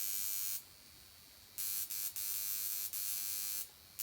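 Handheld acne-zapping device buzzing in short electric bursts, several on-off pulses of a sharp, high whine with brief gaps in between, close up in a quiet room.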